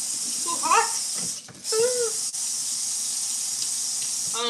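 Hot water running from a kitchen tap into a sink, a steady broadband hiss that fills the whole clip, with a person's voice briefly heard over it.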